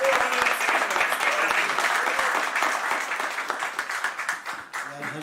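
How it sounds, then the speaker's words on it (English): An audience at a live poetry open mic claps loudly and steadily, with dense applause that thins out toward the end, and some voices are audible over it. "Keep clapping."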